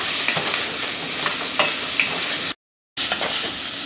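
Spices frying in a saucepan on high heat, a loud, close, continuous sizzle with small pops and crackles, cut by a brief dead-silent gap before resuming.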